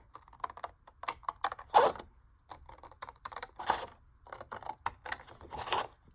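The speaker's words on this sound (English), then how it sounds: "I like these Tim Holtz Tonic Studio scissors. It's a preference, but they're serrated, so they don't slip when you're cutting." Serrated Tim Holtz Tonic Studio scissors snipping paper around the edge of a junk journal piece, a run of short crisp cuts in an irregular rhythm, close and fairly quiet with no talking.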